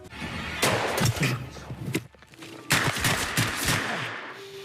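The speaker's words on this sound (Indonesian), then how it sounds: "si penembak jitu kembali meluncurkan tembakan" Sharp sniper gunshots crack in bursts, several loud reports in quick succession, then a brief lull before more shots ring out close by.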